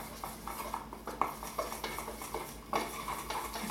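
A utensil stirs a glaze of sugar, milk and Kirschwasser in a bowl, with quiet, rapid clinking and scraping in an uneven rhythm and no talking.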